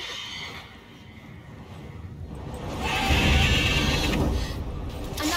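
A mare whinnies loudly in The Witcher 3 video game, a rising neigh that swells near the middle over a background game ambience.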